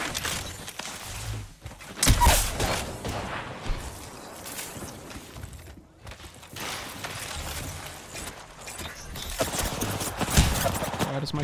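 Rapid bursts of gunfire from a PK machine gun in a shooter video game, with dense crackling volleys, brief pauses and renewed firing at steady loudness throughout.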